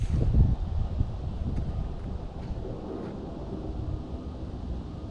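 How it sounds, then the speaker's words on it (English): Wind buffeting the microphone on a golf course, a low gusty rumble that starts strong and eases to a steady blustery hiss, with no talk. "Wind's up again though"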